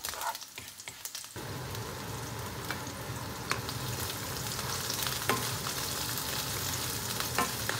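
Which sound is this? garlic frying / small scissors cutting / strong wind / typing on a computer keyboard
garlic frying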